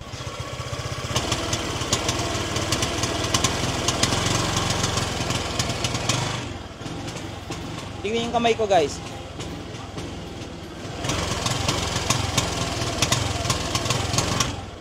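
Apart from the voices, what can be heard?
Honda Click scooter engine idling, noise in pipe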